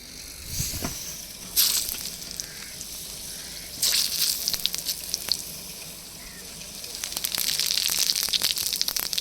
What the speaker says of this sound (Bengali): মাছ ভাজা তেলের মধ্যে শুকনো লঙ্কা আর গোটা জিরা ফোড়ন দিয়ে দেব